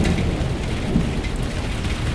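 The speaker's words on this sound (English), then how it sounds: "The rain is pouring down." Heavy rain pours down during a massive flood, a dense, close and unbroken roar of falling water with no voices.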